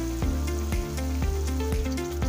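Fish and potatoes fry in oil in a pan for Bengali-style mullu tangra, a steady close sizzle running under continuous tonal music.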